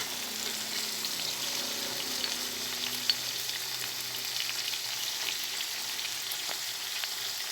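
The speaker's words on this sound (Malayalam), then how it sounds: "ഇനി നമുക്ക് മുളക് പൊടി ചേർക്കാം" Chow chow (chayote) pickle with vinegar fries in a pan as chili powder is added. A steady, even sizzle holds throughout with one faint tap, and there is no talk.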